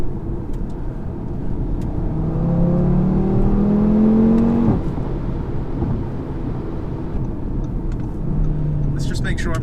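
A 2018 Audi RS3 engine drones and rises in pitch as the car drifts on wet roads, a loud continuous whine and rumble from inside the cabin with someone talking over it.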